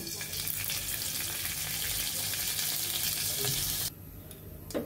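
Panch phoron spices sizzle loudly in white oil, a dense, steady frying hiss close by that drops off sharply near the end.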